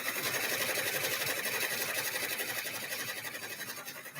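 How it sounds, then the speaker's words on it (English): An embroidery machine stitches a design onto a leather baseball petal, a steady fast mechanical whir and needle chatter running continuously, close and alone, easing slightly toward the end. "And then I put it on my embroidery machine and I embroider on it."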